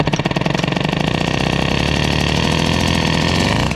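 A Peugeot 103 moped engine with an Airsal 65 cylinder and a clogged spark plug runs steadily while warming up, a loud, close, rapid buzzing putter with no talk over it.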